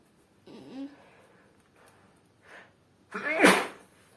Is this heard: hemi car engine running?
no